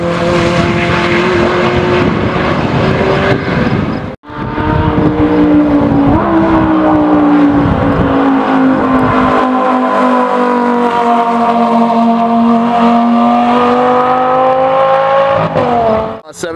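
A Mercedes SLR McLaren 722S Roadster running on a race track, a loud, sustained engine note with rising and falling harmonics as it passes close by, briefly cut off by a sharp gap and then resuming.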